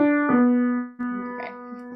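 A short Stravinsky melodic theme played on a sustained, organ-like tone, steady low note with stacked harmonics, a brief dip near the middle, then resuming alone with no talking.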